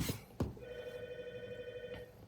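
An indoor doorbell rings with a steady electronic tone that holds for about a second and a half, preceded by a couple of sharp clicks, in an otherwise quiet room.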